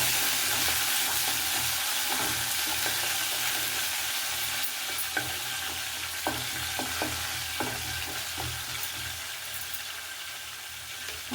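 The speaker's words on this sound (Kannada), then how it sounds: "ಇವಾಗ ಹಸಿಮೆಣಸಿನ್ಕಾಯನ್ನು ಹಾಕ್ಕೊಳ್ತಾ ಇದ್ದೀನಿ." Green chillies fry in hot oil in a pan for a lemon vermicelli chitranna, a steady loud sizzle broken by scraping stirs and small clacks, with no voices.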